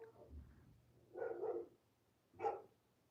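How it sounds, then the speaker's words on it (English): A dog barks indoors at a distance during a quiet moment, giving a short cluster of two quick barks followed by a single bark, moderately loud against a faint background. "There's my dog."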